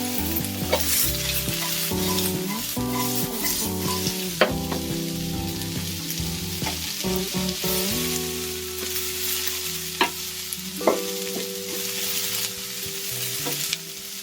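Onions and peppers sizzle steadily in a hot pan for a Sicilian caponata, with repeated scrapes and clinks of a utensil stirring the vegetables close by.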